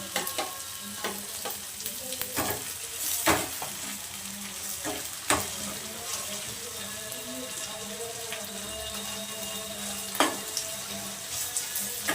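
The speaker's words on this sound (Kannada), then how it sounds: "ಇವತ್ತು ಟೊಮೊಟೊ ಹಾಕೋತಾ ಇದ್ದೀನಿ" Tomatoes frying in a hot tempering for bisi bele bath, a close, continuous sizzle with spoon stirring and scraping clicks throughout, no one talking.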